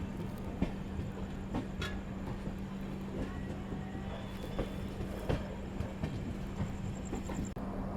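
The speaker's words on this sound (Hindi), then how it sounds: "एक लंबे इंतज़ार के बाद फाइनली हम लोग शिकोहाबाद जंक्शन पहुँच रहे हैं।" A passenger train rolls toward Shikohabad Junction on the Delhi–Kanpur main line, heard from inside as a low steady rumble with scattered clacks and knocks, fairly quiet and even.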